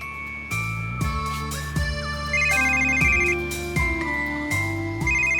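A phone ringtone plays a repeating electronic melody of bright tones, steady and fairly loud, with no voices over it.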